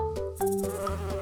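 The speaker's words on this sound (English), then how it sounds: "Honeybee." A honeybee buzzes in a children's farm-animal lesson, a steady droning hum that carries through the whole moment alongside light background music.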